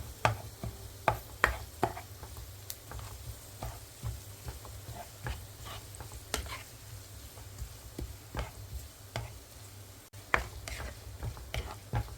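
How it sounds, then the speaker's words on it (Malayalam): Onions fry in oil and ghee for biryani, a soft steady sizzle under repeated scraping and clinking strokes of a spoon stirring the pan. "പിന്നെ നമ്മൾ സവാള ഇട്ട് കൊടുത്തിട്ടുണ്ട് അപ്പോൾ നല്ലപോലെ ഇളക്കി ഇതൊന്ന് മൂത്ത് വരട്ട്"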